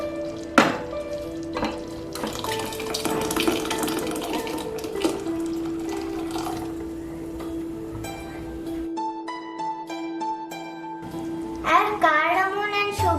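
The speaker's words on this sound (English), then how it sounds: "Add second coconut milk." Second coconut milk pours into a pot of bamboo rice payasam, a steady liquid splash with faint sizzling from the pan beneath, nearby and fairly loud, joined late by a few clinks and scrapes.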